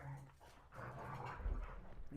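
A dog whimpers and makes soft yipping sounds, quiet and close, with faint background noise.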